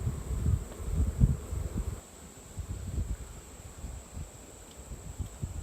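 Honeybees at an open brown hive on a hill during an inspection: a low buzzing hum with soft rustling, louder in the first couple of seconds and then fainter, nearby and with no one talking.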